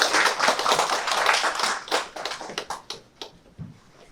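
Audience applause at a sustainable development seminar in Daejeon as a speaker comes forward, a dense round of clapping that thins into scattered, separate claps and fades out toward the end.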